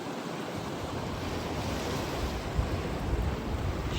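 Rough Pacific Ocean surf at Pacific City roaring continuously with wind, a broad, loud wash of crashing water close by and no voices.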